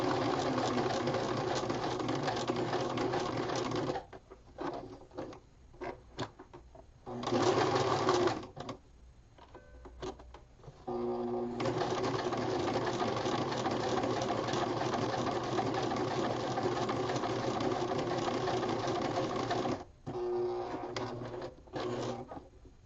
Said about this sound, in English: Stitch down the length of the buttonhole.